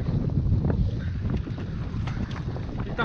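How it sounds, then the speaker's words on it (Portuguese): Gusty wind roars across the microphone outdoors during a mountain bike ride on a dusty trail, a loud and continuous rush broken by flutter and bumps. "Ouvir o vento que tá aí pela poeira vindo"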